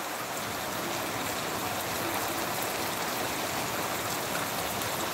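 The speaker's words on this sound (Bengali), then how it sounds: "জলে ঝাঁপটা এসছে।" Steady close rush of splashing water, like heavy rain spray or a running stream, a continuous even hiss with no pauses and no voices.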